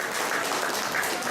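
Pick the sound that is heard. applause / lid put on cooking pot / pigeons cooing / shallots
applause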